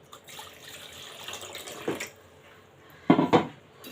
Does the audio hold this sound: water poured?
yes